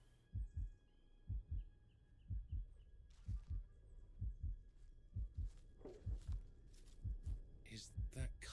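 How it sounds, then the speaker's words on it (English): Heartbeat sound effect in a video game with baby raptors: steady paired low thumps repeating throughout, loud and close, with brief game noises and a voice in the background. "the heart beating's back"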